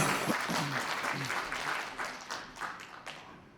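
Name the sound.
audience applause welcoming council chairman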